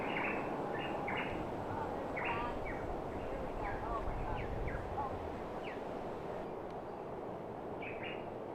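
Birds sing in a forest in American Samoa: scattered bright chirps and short whistled calls repeat irregularly over a steady, faint background hiss.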